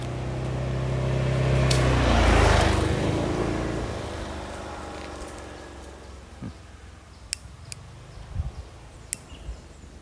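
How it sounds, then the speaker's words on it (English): A vehicle passes on a road beside a reservoir trail in Phuket, its engine rising to a close, loud rush and then fading away, followed by quiet outdoor ambience with a few faint clicks and knocks. "I hear traffic coming."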